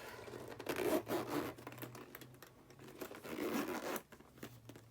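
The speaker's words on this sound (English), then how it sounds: "Here's a zipper." Scratchy rasping strokes of a zipper being pulled open on a Louis Vuitton mini handbag, in a couple of bursts with short pauses, close up and fairly quiet.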